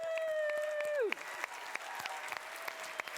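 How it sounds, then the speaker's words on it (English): Audience applause at the DynamicsMinds keynote conference, with scattered, fairly faint claps. A sustained synth or music tone plays over the first second and then slides down in pitch. "please give a big applause for DynamicsMinds and Docentric team"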